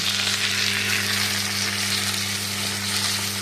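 Ginger pieces sizzling in hot oil with chicken drumstick and drumstick-pod curry, a steady loud frying hiss throughout with no talk.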